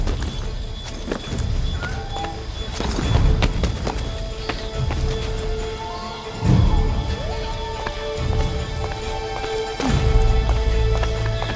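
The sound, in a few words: horse galloping, from a video game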